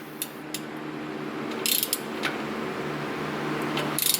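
A ratchet tightens a V-band clamp on the turbo of a Mercedes-AMG M133 engine, making quick close clicking bursts over a steady background hum, with no talking.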